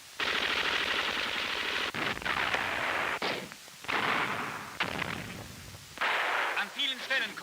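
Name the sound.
machine gun and light gun fire in WWII newsreel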